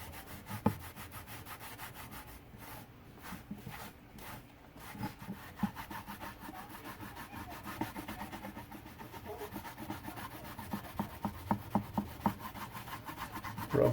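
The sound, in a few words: rag rubbing paint into painted plywood against the grain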